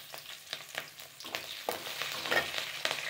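Green chillies and onions fry in hot oil with urad and chana dal for semiya upma, a soft sizzle broken by scattered spoon-stirring clatters, fairly quiet and close.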